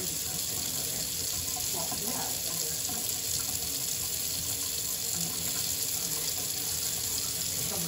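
Water runs steadily from a Wolverine Brass kitchen faucet into a double-basin sink, a constant close hiss and splash that continues unbroken while faint voices talk in the background.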